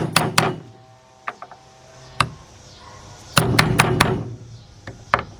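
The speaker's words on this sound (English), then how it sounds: "you want to take the hammer and hit over to that edge" A hammer strikes a socket to seat it during oil pan and rod bearing work on a 2005 Cadillac CTS 3.6 engine. The sharp metallic taps come singly and in quick clusters, close and irregular, with no voices.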